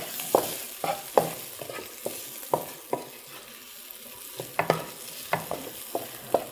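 Chicken pieces frying in a pan while being stirred, with repeated sharp scraping strokes of a utensil over a continuous sizzle, close and fairly loud.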